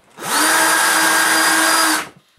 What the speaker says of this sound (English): I start by trying to drill a hole.